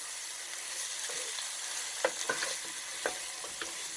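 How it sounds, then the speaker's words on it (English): Flour being stirred into hot oils in a pan to form a roux for chicken supreme, a steady soft sizzle with a few light scrapes and taps of the spoon against the pan. "we mix it round and get all the flour, almost turning the oils and everything in the pan into a roux"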